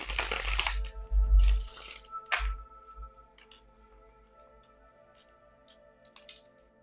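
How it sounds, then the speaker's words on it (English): Tarot cards are shuffled close by in a loud riffling burst, then settle into softer taps and shuffles as the deck is handled, over a faint steady background hum. "I need to make sure I got these good and shuffled before we move on to the air signs."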